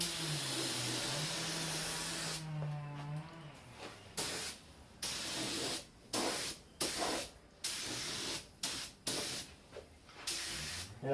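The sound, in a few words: paint spray gun spraying car paint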